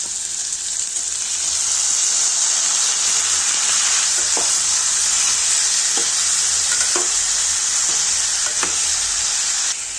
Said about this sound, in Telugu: ఇప్పుడు ఇందులోనే టమాటాలు వేసుకుందాం.